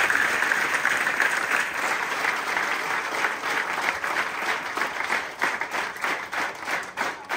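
A church congregation applauds its deacons with sustained, dense clapping from many hands that carries steadily through the room for several seconds, with no clear talk over it.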